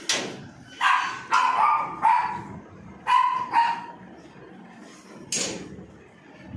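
Several dogs barking at a kennel in Kolkata, loud close bursts of barks in irregular clusters with short gaps, a few yips mixed in, no talking.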